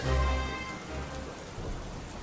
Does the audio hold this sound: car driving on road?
no